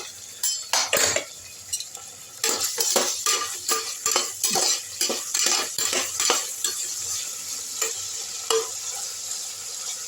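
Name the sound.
okra sautéing in a pressure cooker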